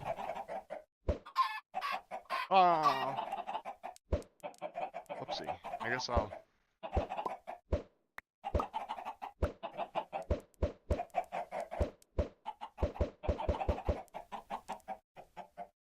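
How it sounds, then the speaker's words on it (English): Chickens clucking in the Minecraft video game, a crowded pen of birds giving repeated short clucks and squawks at close range, with a person talking over them. "look at all these chickens"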